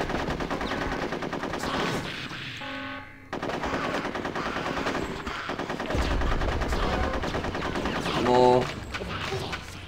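Rapid automatic gunfire from teddy-bear soldiers in the Conker's Bad Fur Day war level rattles in bursts, with brief gaps, over layered game music and effects.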